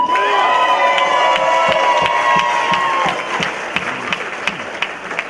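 A large crowd at a gala cheers and whoops loudly and continuously, with scattered claps rising near the end.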